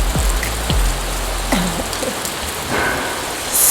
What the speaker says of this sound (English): And now it's a downpour.